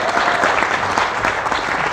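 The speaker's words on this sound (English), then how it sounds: "she deserves a little bit of applaud for that" Brief, dense applause from an audience at a candidate forum, a steady burst of many hands clapping at close range that lasts under two seconds.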